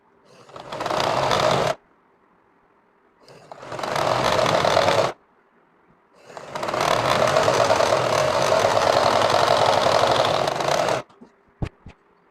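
A sewing machine double-stitches thick rubber in three loud, rapid rattling runs, the last one longest, with silent pauses between and a couple of sharp clicks at the end.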